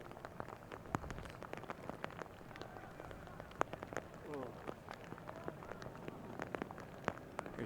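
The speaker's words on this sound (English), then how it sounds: "We're in the downpour section of the first half right now" Heavy rain pours down at an outdoor NCAA soccer match between Louisville and Georgetown, a steady hiss of falling water with scattered crowd noise and faint distant voices.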